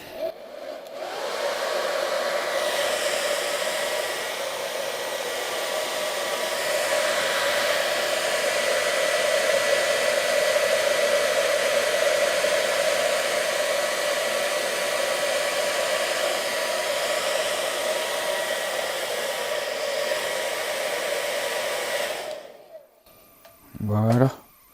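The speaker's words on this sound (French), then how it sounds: "On va mettre un petit coup de sèche-cheveux." A hair dryer blows steadily at close range for over twenty seconds with a constant whooshing drone, then clicks off near the end.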